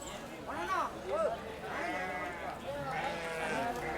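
Young sheep bleat repeatedly, several overlapping calls close by, with people talking in the background of a busy sheep and goat market in Kadiri.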